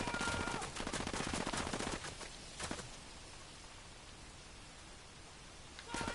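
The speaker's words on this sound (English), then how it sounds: "So what I'm gonna do is I'm gonna throw out a frag grenade" Rapid bursts of gunfire fill a PS4 shooter match, with a sharp blast from a thrown frag grenade, dense and close for two seconds, then a quieter ambient stretch before another short burst at the end.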